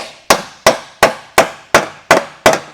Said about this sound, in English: take this extra material and sort of hammer it down in on itself so it stays